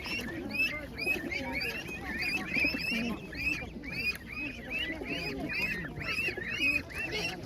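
A dense crowd of pigeons at a bird show market calls continuously, with many overlapping squawks and honks filling the air at steady, busy loudness.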